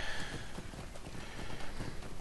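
Horse hooves clip-clop at a steady gallop during a timed lap in the fantasy MMO Lord of the Rings Online, a continuous rhythmic patter at moderate distance with no talk over it.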